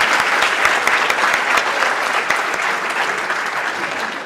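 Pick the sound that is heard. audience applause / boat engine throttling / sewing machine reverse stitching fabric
audience applause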